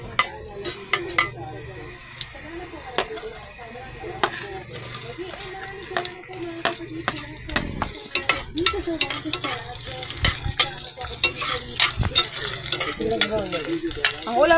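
Bottle gourd (upo) and sardines sauté in a pan with a constant sizzle, punctuated by clinks and scrapes of a utensil stirring against the pan, while people talk in the background.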